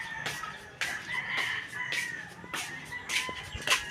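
Chickens fight nearby with a run of sharp squawks and flapping bursts in an uneven rhythm, fairly faint, over a quiet household background.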